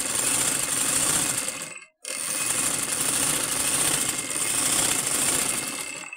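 A manual sewing machine stitching fabric clatters in a loud, steady mechanical rhythm, with a brief stop near the two-second mark before the stitching resumes at the same noisy pace.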